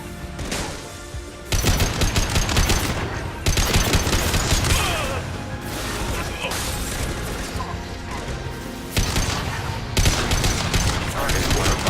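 Dense bursts of rapid automatic gunfire and crashing impacts from combat in the video game Mass Effect 2, loud and sustained across the clip with brief lulls, mixed with game sound effects and music.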